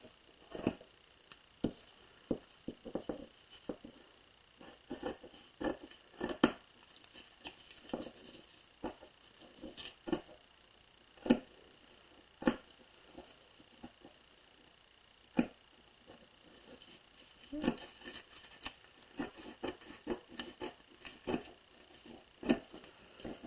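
Scissors cut paper pattern pieces and fabric, making sharp, irregular snips and clicks spaced through a quiet room, close and fairly soft, with no talking.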